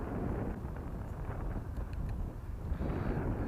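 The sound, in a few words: wind gusting outdoors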